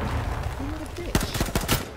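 Rapid bursts of automatic gunfire from a shooter video game crack out in the second half, several close, loud volleys in quick succession following a stretch of murmuring background noise.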